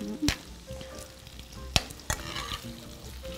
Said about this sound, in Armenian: Կրակն էլ կարելի է բավականին բարձր անել, որպեսզի շատ արագ տապակվի այս ամենը։